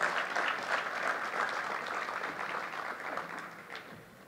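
Applause from a conference audience at a mining congress, a steady wash of many hands clapping at moderate distance that holds for several seconds and tapers off near the end.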